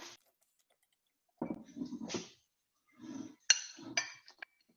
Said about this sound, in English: Mix it together evenly